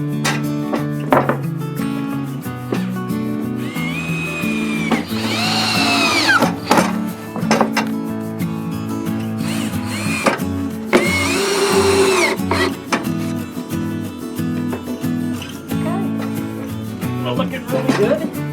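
A power drill drives screws into a wooden screech owl birdhouse, its motor whirring in repeated rising and falling bursts over a steady background while a person talks throughout.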